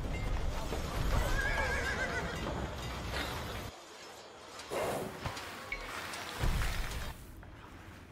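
A horse whinnies loudly over a steady rumble, followed by hoofbeats and further neighs, with a busy game-like ambience throughout, from the video game Age of Empires 2.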